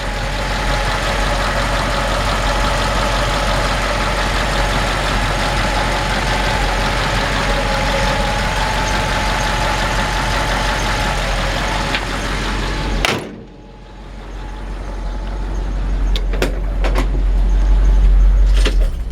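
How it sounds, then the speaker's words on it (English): A period-correct flathead V8 engine in a 1948 Ford F1 truck idles with a steady low rumble, then cuts briefly before picking up again with a few clicks and knocks. "Let me let you listen to the engine run first. This is the period correct flathead V8."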